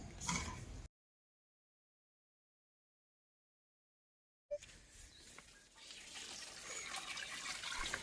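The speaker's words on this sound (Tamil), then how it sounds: "இப்போ அதுக்கு தண்ணி ஊற்ற போகிறேன்." Water splashes and trickles steadily onto the soil around two freshly planted orange rose plants, a gentle continuous pour with birds faintly in the background, following a brief burst of sound and a long silent gap.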